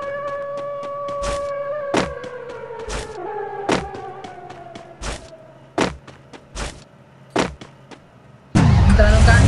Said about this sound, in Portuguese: Entrar no carrinho aqui, tipo Need for Speed, vai.